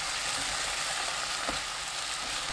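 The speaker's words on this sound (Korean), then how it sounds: "소고기 넣고 센 불로 볶습니다" Beef stir-frying in a pan over high heat, giving a steady, even sizzle and hiss with no break throughout and no voices.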